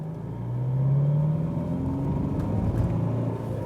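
Alfa Romeo Giulia diesel accelerating from 20 to 60 km/h in second gear, a low engine rumble that climbs in pitch and swells, then holds steady under road noise from inside the cabin.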